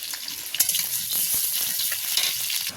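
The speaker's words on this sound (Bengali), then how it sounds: "তেলটা গরম হয়ে গেছে, এতে দিয়ে দেবো আলু।" Potato pieces frying in hot oil in a home kitchen give off a dense, steady sizzle with scattered crackles and a few stirring clinks, close and fairly loud.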